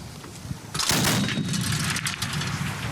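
A DShK heavy machine gun fired by a female soldier of the armed forces, erupting after a quiet moment into a loud, dense burst of gunfire that stays sustained and rough to the end.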